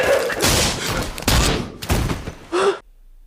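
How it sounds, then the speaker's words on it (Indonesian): Several loud gunshots crack out in quick succession, mixed with sharp gasps and a short cry, then sudden quiet. "meski Alicia terkena tembakan Tom"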